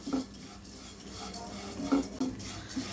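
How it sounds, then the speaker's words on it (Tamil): Dry poha (flattened rice) roasting in a pan over a slow flame, with quiet stirring and scraping from a spoon and a few light metallic clinks against the pan. No one speaks. "இதையும் நம்ம ஸ்லோவில் வச்சு நல்லா வறுத்து எடுத்துக்கலாங்க"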